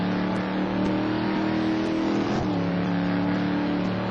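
Race cars circle the track during an STC Black Cup race at Rouen, a continuous engine howl that rises and falls across gear changes, with a busy, steady roar of several cars together.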